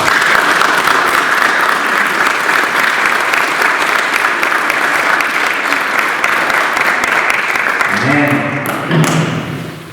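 Loud, sustained congregational applause in a church service, many hands clapping densely for several seconds before tapering as a voice and a few tones emerge near the end.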